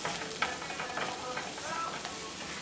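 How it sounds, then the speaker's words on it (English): Butter sizzles and crackles steadily in a very hot pan, a close, continuous frying hiss with small pops and stirring sounds throughout. "I just add the butter there because the pan is really hot"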